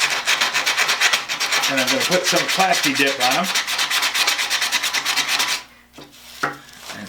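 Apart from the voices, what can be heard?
sanding rust off metal tool handles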